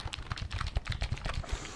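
Fingers type quickly on a computer keyboard with a reported fault where some keys no longer work, producing a close, rapid, uneven run of plastic key clicks with no talk over it.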